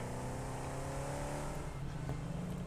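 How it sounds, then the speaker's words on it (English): A loud, slow-moving vehicle engine drones steadily in the Satisfactory video game near a waterfall, holding a continuous hum with no talking over it. "Engine on this thing is very loud, even though it doesn't move very fast"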